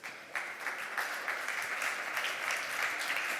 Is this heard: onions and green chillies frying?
no